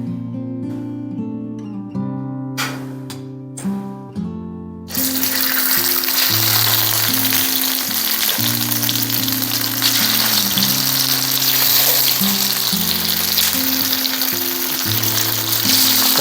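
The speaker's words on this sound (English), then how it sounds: "So pretty much fry the tofu." Tofu frying in oil, a loud continuous sizzle that swells and holds steady close by, with music playing underneath.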